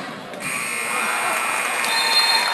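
A final buzzer at a girls' JV high school basketball game between the Lady Hornets and St. Joseph sounds as a loud, sustained electronic drone over gym crowd noise.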